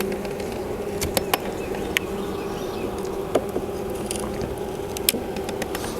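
Honey bees from an overwintered Layens hive hum steadily up close while a frame is lifted for inspection, a continuous buzz broken by occasional sharp clicks and taps from the wooden frames.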